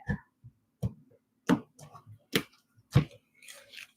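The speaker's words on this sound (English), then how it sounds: "I'm hearing one more shuffle." Oracle cards being shuffled in a series of sharp, close riffling snaps, about six distinct bursts spaced roughly half a second apart with quiet gaps between them.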